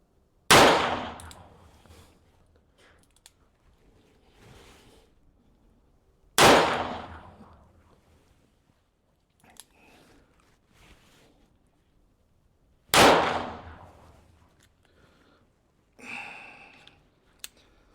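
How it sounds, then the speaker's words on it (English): Four .357 revolver shots fired at a target ring out as sharp, loud cracks spaced several seconds apart, each followed by a short decaying echo in otherwise quiet surroundings. "That was only 4 shots."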